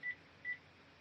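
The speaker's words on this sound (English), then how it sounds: "There's a phone." Phone beeping: two short, faint, high electronic beeps about half a second apart over a quiet room hum.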